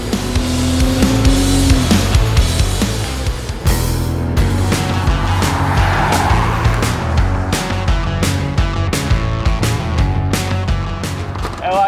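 A Ford Ranger pulls away in the Victorian High Country, engine revving loud and close, with a sudden tonal change midway followed by a series of sharp clicks and knocks over the steady drone.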